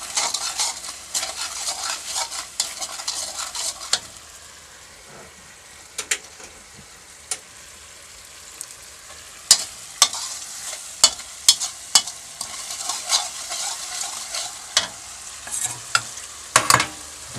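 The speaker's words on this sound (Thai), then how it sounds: "จากนั้นคนให้เข้ากันนะครับ" Chicken offal stir-fried with holy basil is stirred in a sizzling pan, a steady fry hiss broken by repeated sharp scrapes and clacks of a utensil against the pan, some louder strikes clustering near the end, with no talking.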